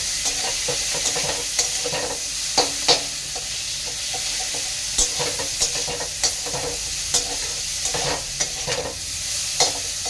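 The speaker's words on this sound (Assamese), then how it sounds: "ৰঙচুৱাকৈ পিঁয়াজটো ৰঙচুৱাকৈ ফ্ৰাই কৰিব লাগিব" Onions fry in a pan for daal, browning to a reddish colour. A steady close sizzle runs throughout, with regular clinks and scrapes from stirring, and no talk.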